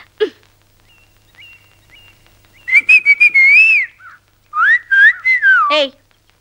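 A man whistles loudly to call someone, sharp melodic whistle phrases in two bursts with rising and falling pitch, close and clear over near silence, followed by a brief vocal sound.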